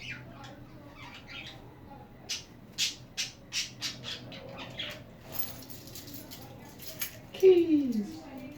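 Pet budgies chatter and squawk close by in short, rapid bursts, with a louder squawk near the end and a person talking softly in the background.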